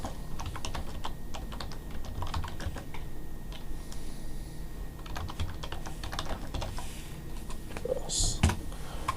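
Rapid typing on a computer keyboard, a dense run of close, light key clicks with brief pauses, continuing steadily and alone without talk.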